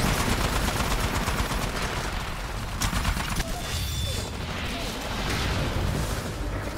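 Gunfire from a gun in the video game Titanfall, a continuous dense rattle of rapid shots that barely lets up, loud and close, with a brief mechanical clatter partway through.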